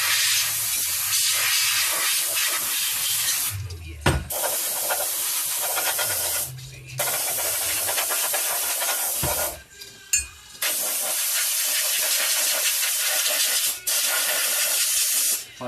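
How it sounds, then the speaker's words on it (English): Aerosol cleaner hisses in long, loud bursts into the check ball capsule at the back of a 4L60e transmission drum, with a few short pauses between sprays. "You can spray it in there and make sure it's clean so that it'll seat good."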